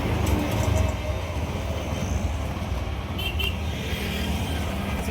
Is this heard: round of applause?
no